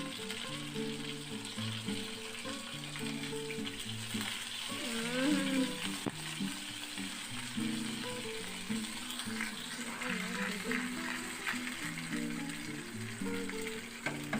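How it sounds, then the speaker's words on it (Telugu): Dry red chillies, garlic cloves and curry leaves sizzle in hot oil as a tempering for mango dal, a soft, steady crackle under faint background music. "పప్పు తాలింపు వేసేటప్పుడు ఎండుమిర్చి మాత్రం కంపల్సరీగా వేయాలండి"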